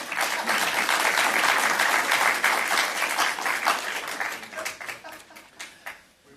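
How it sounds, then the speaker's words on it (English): Steady applause from a crowd at an awards ceremony, loud and continuous, gradually thinning out and fading toward the end. "a round of applause to the winners"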